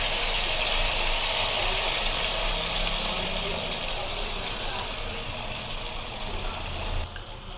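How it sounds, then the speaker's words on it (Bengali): Ground mustard paste hitting hot oil with nigella seeds in a pan for a Bengali rui fish curry, a loud steady sizzle and hiss running throughout and easing slightly toward the end. "এবারে আমি দিয়ে দিচ্ছি যে সর্ষেটা আমি বেটে পেস্ট করে রেখেছিলাম, সেই সর্ষেটা আমি দিয়ে দিচ্ছি"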